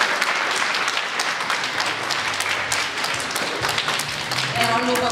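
Parents and guests applaud the children at a junior primary school closing day, a dense, loud burst of clapping with a voice speaking beneath it toward the end.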